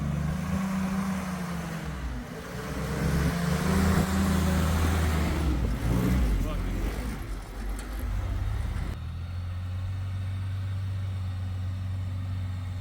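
Classic Jeep engine running on the Double Sammy off-road trail, a steady low rumble that swells and strains mid-run, then settles into a smooth idle-like drone toward the end.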